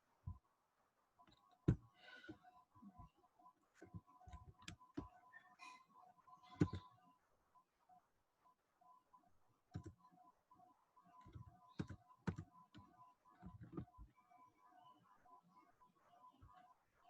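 Scattered key clicks of typing code on a computer keyboard, irregular and fairly close, with bursts and pauses over a steady faint hum, no talk.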